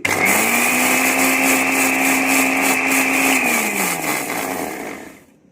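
An electric mixer grinder whirs steadily as it grinds homemade chilli flakes, a loud, close, high motor whine holding for about four seconds before spinning down and fading out, with no talking.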